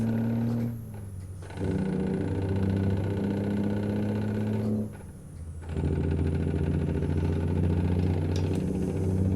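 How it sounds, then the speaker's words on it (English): An International 9600 cabover truck engine in American Truck Simulator drones steadily at about 2200 rpm, briefly easing off twice before rising again, with no talking. "I'm revving that up to like 2200."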